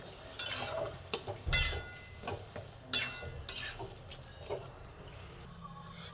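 Spinach curry being stirred in a pan as it dries out, with scattered scraping stirs and soft sizzling, plus a few louder clatters against quiet kitchen background.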